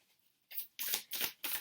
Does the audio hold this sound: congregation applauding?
no